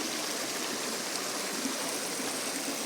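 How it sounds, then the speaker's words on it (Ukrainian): A mountain waterfall pours in a steady, even hiss of rushing water, moderately near and continuous, with no voices over it. "сьогодні ми разом з вами поспостерігали за таким явищем природи, як водоспад"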